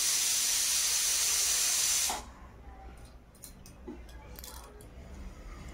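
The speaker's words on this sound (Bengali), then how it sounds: "দেখো এখন চাল ধোয়া হচ্ছে।" Rice being washed with water poured from a large pot: a loud, steady rush of water for about two seconds, then quieter scattered splashes, clinks and trickles.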